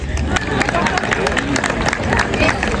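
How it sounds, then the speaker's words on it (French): A comedy show crowd in Lyon's Croix-Rousse claps and murmurs together, a lively burst of applause mixed with chatter and voices close by. "on l'applaudit."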